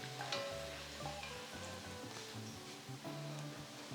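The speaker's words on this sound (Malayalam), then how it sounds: "സവാള ഈ ലൈറ്റ് ബ്രൗൺ കളർ ആകുമ്പോൾ നമുക്കിതിനകത്തേക്ക് ചിക്കൻ ആഡ് ചെയ്യാം" Chicken dropped into light-brown onions frying over high flame for Lucknowi chicken biryani, a steady close sizzle with faint stirring scrapes, no talk.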